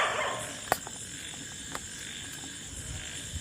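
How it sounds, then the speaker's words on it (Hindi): Dogs bark at night near a school in Rajasthan, a few scattered sharp yelps over a steady noisy background, with one stronger bark early on and fainter ones after. "कुत्ते यहाँ पर भौंक रहे हैं"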